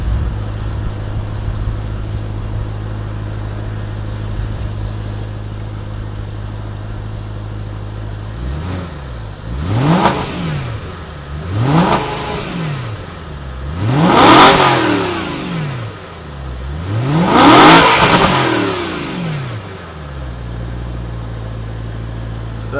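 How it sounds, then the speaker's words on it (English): A BMW M3 with its stock exhaust idles with a low burble, then takes four throttle blips in a row. Each one rises and falls back, and the last two climb higher and sound louder, heard up close with no talking. "let me give you a little rev for you"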